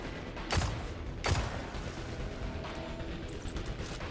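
Hand cannon gunfire in the video game Destiny 2, with two sharp shots about 0.7 seconds apart standing out over a steady bed of game noise and distant combat.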